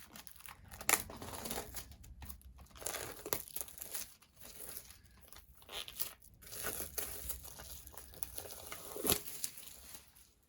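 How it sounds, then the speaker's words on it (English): Plastic wrap crinkles and tears off a The Boyz mega album, a close, irregular run of crackling rips and rustles with no voice over it. "I think the plastic is already ripping."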